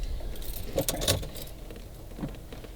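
Car key jangling beside a BMW 540 drift wagon project, a few bright metallic clinks bunched near the middle, close and moderately loud over a low, steady background rumble.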